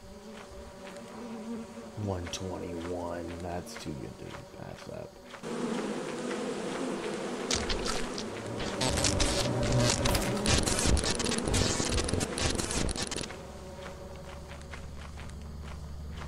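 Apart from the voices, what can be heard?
bees buzzing in a video game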